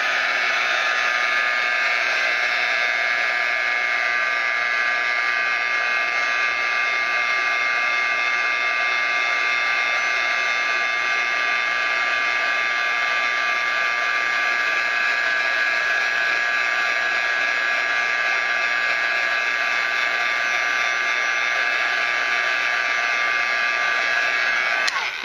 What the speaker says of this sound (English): And then I'm just going to heat set it.